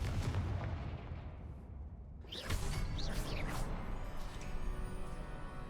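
A Confringo fire spell blasts in Hogwarts Legacy on PS5, a sudden whooshing burst around 2.3 seconds that explodes into crackling, sparkling flares over a low ambient game rumble, with no talking.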